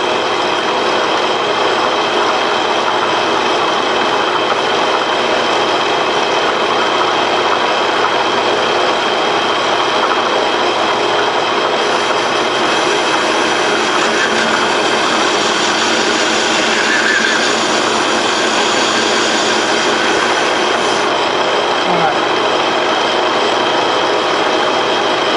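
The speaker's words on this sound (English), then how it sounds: "we're cutting a 2-degree taper" A Pratt and Whitney lathe, fed by hand, cuts a 2-degree taper on a flat belt pulley, giving a loud, steady machine drone and hum that runs unbroken with no talk.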